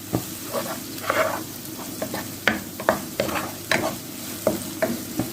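Halved tomatoes fry in a pan as a utensil stirs them, with repeated scraping strokes over a soft continuous sizzle.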